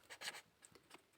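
Pen scratching across paper in short, close strokes, a few quick scribbles with brief pauses during a Class 10 maths solution being written out.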